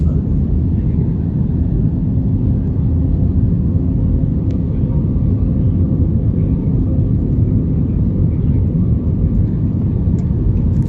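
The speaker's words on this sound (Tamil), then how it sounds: "விமானம் ஏர்போர்ட்டை நெருங்கிருச்சு. நம்ம ஃப்ளைட்டு ஏர்போர்ட்டில் போய் லேண்ட் ஆகிற வரையும் அப்படியே காட்டுறேன் பாருங்கள்." A passenger airplane approaches and lands at the international airport in Sri Vijayapuram, Andaman, heard from inside the cabin as a loud, steady, low engine rumble and roar that continues without a break.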